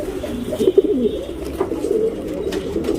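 Soft, repeated cooing from a tournament pigeon kept in Bangalore, a steady close murmur of low throaty calls running the whole time with no talk.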